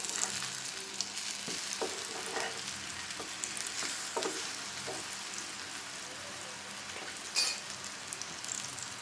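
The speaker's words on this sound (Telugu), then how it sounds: "బ్యాక్ సైడ్ కూడా మనకు ఒక 5 మినిట్స్ అలా ఫ్రై అవ్వాలన్నమాట." Brinjal slices fry on a flat iron tawa with a steady, close crackling sizzle, dotted with small spits and pops and one sharper burst near the end, no voices.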